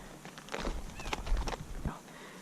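A trail horse, calm and relaxed, walks with soft, irregular hoof clops, close by. Quiet breaths and faint movement noises come through in the gaps.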